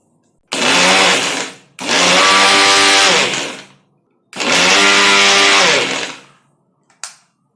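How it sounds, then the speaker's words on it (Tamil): A kitchen mixer grinder grinds brown sugar for peanut biscuits in three loud, close whirring bursts separated by short pauses, followed by a brief final blip, with no talking. "ஸோ இதை முதல்ல கிரைண்ட் பண்ணிடுவோம்."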